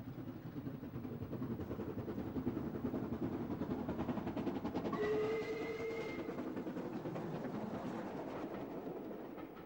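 A steam locomotive hauls a holiday passenger train along the North Wales coast, a steady, fairly distant rumble of wheels and carriages with a brief whistle sounding midway.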